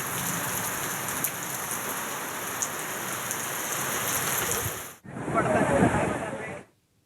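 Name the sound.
heavy monsoon rain in Amravati city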